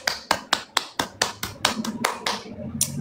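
Hands clap in a fast, even rhythm of about four crisp claps per second, close and distinct, before briefly thinning out near the end.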